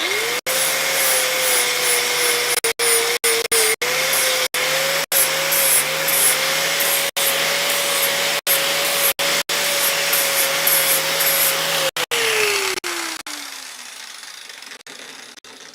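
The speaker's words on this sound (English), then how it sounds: "I'm going to use the grinder just to quickly take the scale off." An angle grinder strips hard scale from a heat-treated steel cross peen hammer in a blacksmith shop. Its loud, steady whine carries scratchy grinding and brief cut-outs, then the motor winds down and fades at the end.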